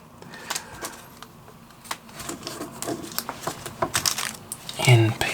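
Small screws for an Ecto 1 model build clink and rattle in quick irregular bursts as fingers rummage through them, close and fairly faint, with brief talking.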